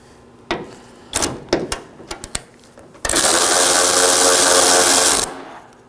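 A 13mm ratchet removes the hood hinge bolts on a 2013–2019 Nissan Sentra. A few sharp ratcheting clicks and clunks come first, then a loud continuous buzzing whir lasting about two seconds, then quiet.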